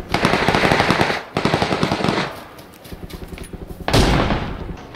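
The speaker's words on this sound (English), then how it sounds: "shots behind us at those houses" Rapid automatic gunfire in the battle game PUBG, loud and close: long bursts of dense shots, a pause, then further volleys and a heavy final burst.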